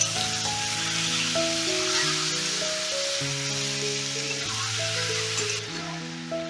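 Chicken pieces frying with finely chopped onions in a pan, giving a continuous even sizzle that runs under steady background music without pause.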